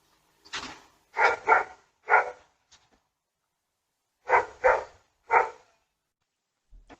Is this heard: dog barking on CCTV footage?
yes